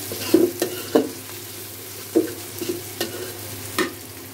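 Whole garam masala spices, ginger and cinnamon pieces fry in a pan over a soft sizzle. Close, sharp scrapes of stirring mark a loose, irregular rhythm, with no talking.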